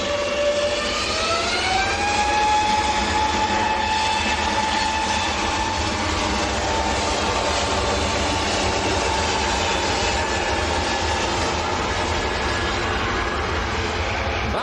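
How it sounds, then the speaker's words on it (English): An EasyJet Airbus A320neo jet at Manchester airport rolls past with a loud, steady engine roar and a rising whine that settles into a sustained tone, filling the scene without talk. "That was EasyJet to Belfast. A320neo."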